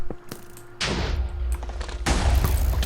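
Cannon fire in a Minecraft 1.8 tournament match, loud booming blasts in two heavy bursts with scattered sharper cracks between them, heard alone without talk.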